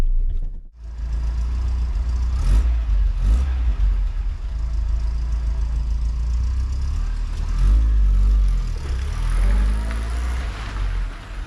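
An Austin Allegro 1300 Super drives out of a garage after a long layup. Its engine is close and loud, with a steady low rumble and a few rising revs throughout.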